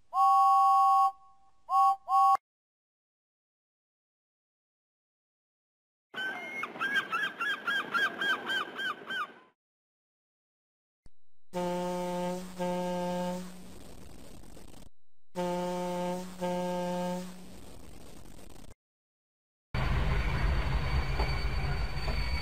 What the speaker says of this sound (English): he gave a long blast on his whistle